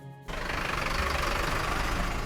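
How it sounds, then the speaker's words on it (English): A steady, deep engine rumble running continuously after a brief quieter start, loud and close with no voices. "However, the sound of this engine"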